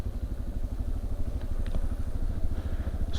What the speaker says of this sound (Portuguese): só vou dar uma ligadinha aqui para esquentar o motor